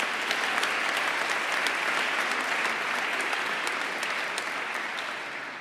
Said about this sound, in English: let us applaud the accomplishments of those graduating from the Department of Environmental Biology